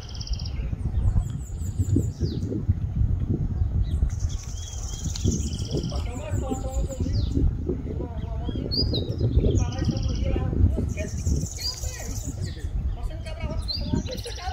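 Several sibite songbirds chirp and twitter in quick, bright bursts, gathered together near a group of people who talk loudly throughout.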